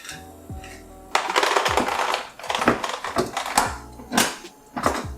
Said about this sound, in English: Sorry for the noise. It's the ice maker.